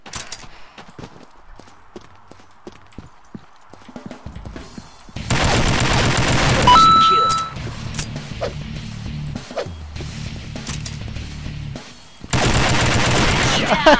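Gunfire in the online shooter Combat Arms Reloaded, loud sustained bursts of automatic fire in two long stretches separated by quieter in-game sounds and scattered shots.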